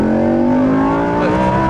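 A race car accelerates at full throttle on a track, with a loud, close engine roar whose pitch climbs steadily as the revs rise, filling the whole short stretch.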